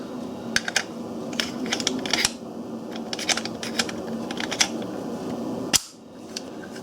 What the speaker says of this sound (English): Let's put this gun back together again.